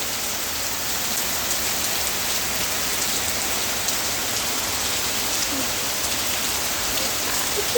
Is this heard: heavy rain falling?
yes